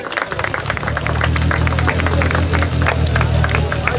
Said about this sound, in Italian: Applausi signori